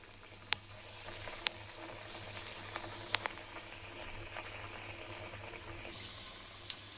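Masala vada batter sizzles in hot oil, a quiet, steady bubbling with a few sharp pops and crackles scattered through, close by and with no talk.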